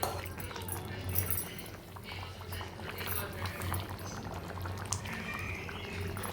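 Potato curry gravy bubbling at a steady boil in a home kitchen pot, a continuous low burbling with soft pops, fairly close and even in level throughout.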